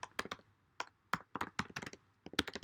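Someone types on a computer keyboard while working a finance problem set: irregular clusters of crisp key taps with short pauses between bursts, close and fairly quiet, with no voices.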